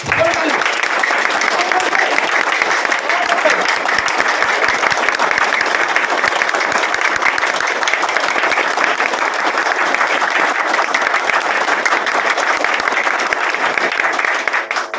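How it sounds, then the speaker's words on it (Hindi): A hall full of people clapping hard at a top-leader crowdfunding seminar, a sustained, even roar of many hands that holds loud and close for the entire span without letting up. "आप सभी साथी एक बार जोरदार क्लैपिंग करें"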